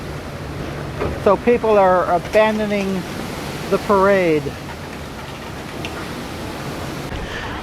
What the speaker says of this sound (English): all of a sudden it got very, very windy and just starting to sprinkle.